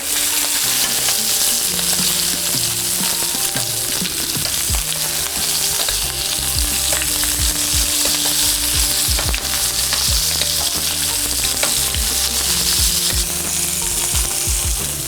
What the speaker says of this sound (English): I want to baste my steak.